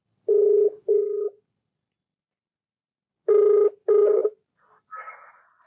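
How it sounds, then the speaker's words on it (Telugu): An outgoing telephone call rings out in a double-ring pattern, two tone bursts, a pause, then two more, loud and clear with nothing else heard. "మరి నేను కాల్ చేయమంటారా నన్ను?"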